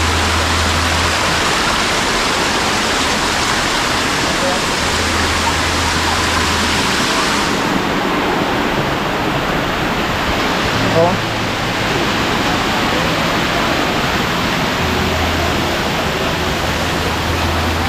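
A waterfall in Mindanao roars as a dense, loud, unbroken rush of falling water, close and continuous throughout, masking everything else.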